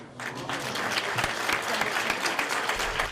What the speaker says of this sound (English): there was applause and a standing ovation tonight as Edith Dumont, Ontario's Lieutenant Governor, entered Le Souper de la Francophonie